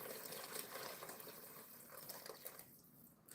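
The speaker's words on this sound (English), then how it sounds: "So we are pouring our hot water in here." Hot water is poured into a soup pot of lentils and broth in a home kitchen, a quiet, steady, splashy pour with no talking.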